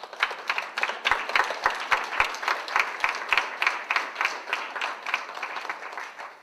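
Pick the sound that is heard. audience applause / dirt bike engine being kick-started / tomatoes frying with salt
audience applause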